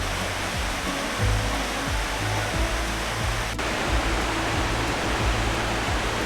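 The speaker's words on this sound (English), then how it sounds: "So this right here is Ingram Falls." Rushing waterfall at Ingram Falls on the Bridal Veil Falls Trail, a steady broadband roar of falling water heard up close, continuous and loud throughout with no voices.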